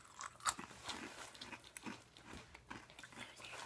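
Someone chews goldfish crackers close to the mic, with soft, repeated crunching and mouth sounds at a low level and no clear talk.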